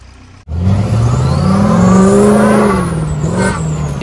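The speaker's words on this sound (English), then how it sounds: "He's sitting there just gunning it, spinning the fucking tires, burning the engine out of it." A mud vehicle gunning its engine and spinning its tires in mud, a sudden loud, close roar that climbs in pitch and holds steady for several seconds.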